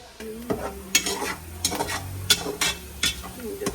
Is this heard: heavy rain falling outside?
no